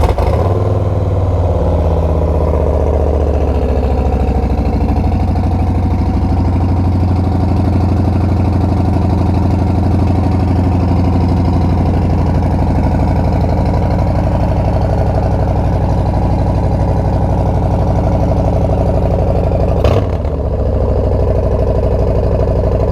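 A Harley-Davidson Street Bob 114 motorcycle with a Stage 1 upgrade fires up and settles into a loud, steady, rumbling idle close by, holding level throughout with a brief sharp knock around the twenty-second mark.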